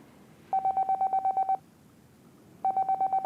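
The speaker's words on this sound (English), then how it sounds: "Then Canaan's phone rang, and she reached to answer it." Phone ringing effect in a radio-style drama: two bursts of rapid, pulsing electronic tones, each about a second long, separated by a short pause, clear and close.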